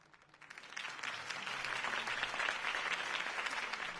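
Crowd applause at a political campaign rally in the video game Batman: The Telltale Series, rising quickly from quiet into sustained, full clapping from many hands that stays steady to the end.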